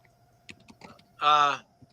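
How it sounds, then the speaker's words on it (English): Computer keyboard typing during a live podcast session, heard as a quick burst of soft clicks with faint background voices nearby. "Why am I typing?"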